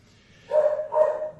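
A dog gives two short, close barks in quick succession, loud against a quiet background.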